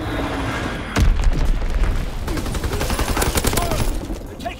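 Bomb explosions and dense gunfire in the Call of Duty WWII video game, a heavy boom followed by continuous rattling fusillade and blasts, loud and unbroken throughout.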